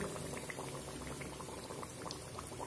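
Chicken chops frying in oil give a continuous bubbling, crackling hiss, quiet and even throughout with dense small pops.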